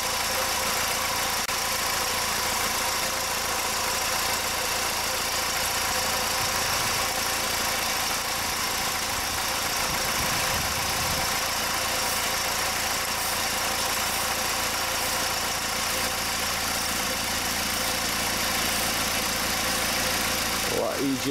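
A 2006 Honda FR-V with poor starting, its engine idling steadily nearby during a vacuum-gauge test, a constant mid-pitched hum and vibration that holds unchanged throughout, with faint handling noises.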